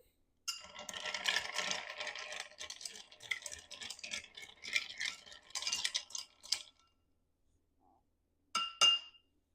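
Ice cubes swirl and clink against a glass while a gin cocktail is stirred, a busy close rattling that runs for several seconds, stops, then returns in a brief final burst.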